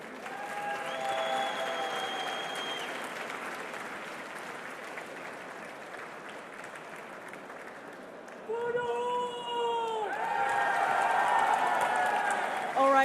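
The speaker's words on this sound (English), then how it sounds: "a big round of applause for Team Liquid" An audience at a Heroes of the Storm esports tournament trophy ceremony applauds continuously, a dense wash of clapping with some cheering, while voices speak over it and the clapping swells toward the end.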